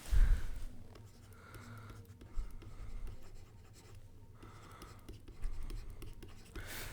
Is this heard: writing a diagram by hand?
yes